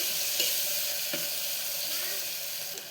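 Turmeric sizzling and frying in a pan for cabbage dal, a steady soft hiss with faint stirring clinks, fairly quiet and continuous with no talk.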